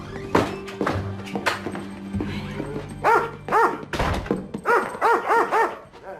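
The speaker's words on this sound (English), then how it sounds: "That's Wolfie. You better keep your distance. He doesn't like strangers" A guard dog wary of strangers barks several times, loud and close, with a growl and whimper early on, then a rapid string of sharp barks toward the end.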